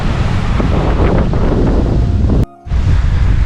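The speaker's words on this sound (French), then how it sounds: "Bon, il y a un peu de vent," Steady wind at a beach in Brazil buffets the microphone in a loud, continuous rush, with a brief near-silent dropout before the gusting resumes.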